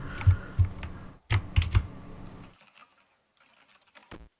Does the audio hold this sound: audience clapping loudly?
no